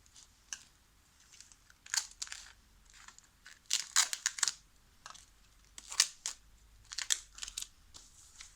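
Scissors snip and crunch through material near an open PC case, a series of short, sharp, close cuts in uneven bursts with quiet gaps between.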